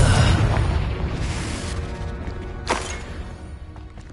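Confringo spell explosions in the Hogwarts Legacy video game: a deep rumbling blast at the start that slowly fades, then a sharp burst midway, with crackling debris and game effects around them.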